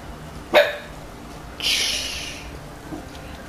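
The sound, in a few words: dogs barking in the video game The Witcher 3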